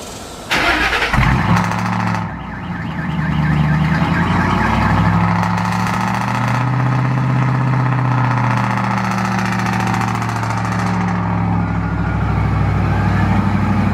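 A 2005-2009 Ford Mustang GT cold starts after sitting a day or two: the starter cranks briefly, the engine catches with a loud rev, then settles into a steady, throaty idle up close.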